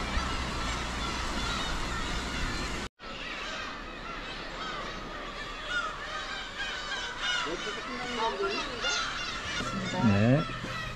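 A flock of seagulls calls over Gwaneumdo island off Ulleungdo, dense overlapping honking cries continuing throughout, with a few louder close calls near the end and people talking underneath.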